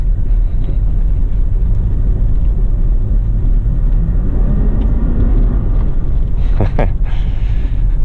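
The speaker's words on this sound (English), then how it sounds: "Get the tires spinning. That actually kicked up a lot of dust." An off-road vehicle on a graded dirt road near Harris Springs Road outside Las Vegas, a loud continuous low rumble of engine and tires churning, with a brief rising whine of spinning tires near the end.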